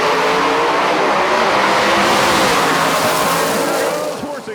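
A supercharged drag racing car with a blower roars loudly down the strip, a dense sustained engine blast that holds steady and then begins to fade near the end, with a voice faintly under it.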